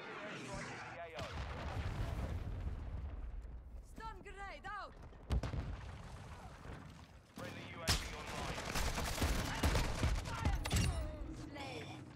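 Rapid gunfire bursts and loud booms from Call of Duty Modern Warfare 2 gameplay, mixed with game effects and player voices talking throughout.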